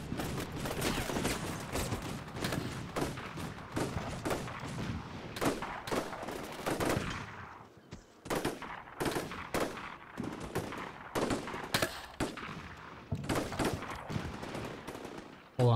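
Dense, sustained gunfire from the PC wargame Combat Mission Shock Force 2: rapid machine-gun bursts and overlapping rifle shots crackle continuously, pausing briefly near the middle before resuming loud and busy.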